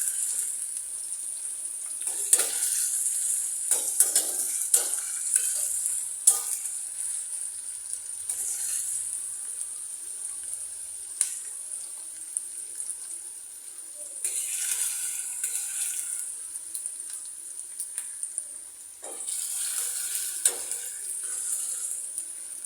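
Onions for chicken biryani frying in a pan on raised heat, a faint high hiss of sizzling that swells and fades, with scattered soft clinks and stirring noises, with no voices.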